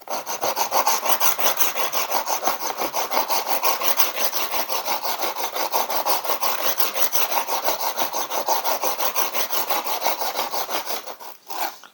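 A dull chisel is sharpened with rapid, even back-and-forth strokes, a steady rasping scrape repeating many times close by, alone without speech.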